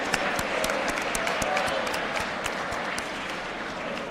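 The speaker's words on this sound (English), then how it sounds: "Let's clap it up for our freshmen." Audience at a school assembly award ceremony applauding, a steady dense patter of many hands clapping throughout, moderately distant, with no clear talk.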